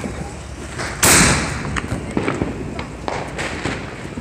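A small family Fourth of July firework launches with a sharp whoosh and thump, then fizzles without a bursting bang, followed by scattered faint pops and crackles outdoors.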